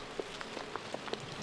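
Sparse, scattered droplet taps over a soft steady hiss, like light rain pattering on a surface, in the game Gunbrella, fairly quiet and even throughout.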